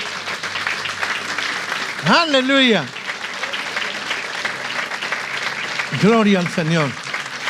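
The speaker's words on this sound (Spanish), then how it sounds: "Denle un hermoso aplauso al Señor." Church congregation applauding steadily in a broad wash of clapping, while a voice calls out twice over it in exclamations of praise.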